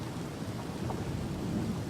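Monsoon thunderstorm rain pours in a steady, dense wash, with a low rumble of thunder mixed underneath at moderate loudness and no voices.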